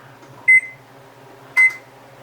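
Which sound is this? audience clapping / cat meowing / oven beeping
oven beeping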